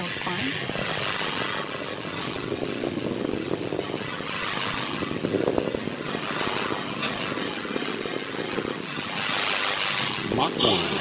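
An Atlas V rocket carrying Boeing's Starliner thunders during its climb, a dense, steady roar with rumbling texture that holds for the whole stretch, partly under a voice of commentary.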